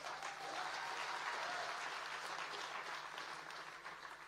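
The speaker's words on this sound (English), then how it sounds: "Give him another round of applause" A conference audience at a Bitcoin event in Africa applauds, giving a dense, sustained wash of clapping from a large crowd that holds steady for several seconds and tapers slightly at the end.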